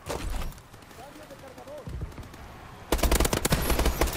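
Automatic gunfire in Call of Duty: Advanced Warfare, a short burst at the start, then scattered shots with a voice talking, and a loud dense rattle of rapid fire at the end.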